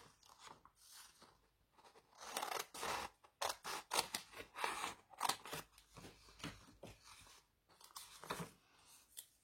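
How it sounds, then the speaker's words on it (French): Crisp scissors snipping close by, a run of irregular cuts with brief pauses between them. "Ciseaux."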